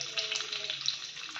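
Stuffed green chillies with hing fry in oil on an iron tawa, giving a steady, soft, close sizzle with light crackles throughout.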